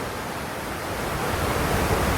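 Strong current rushing along the Punna river at Chooralmala, Meppadi, a steady broadband roar of water that holds constant and builds slightly, close and loud throughout with no voices.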